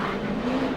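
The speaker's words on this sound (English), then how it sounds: "Up against the rev limiter there." A NASCAR Cup race car at the 2005 Daytona 500 holds against its rev limiter, giving a steady, loud, buzzing engine drone for under a second.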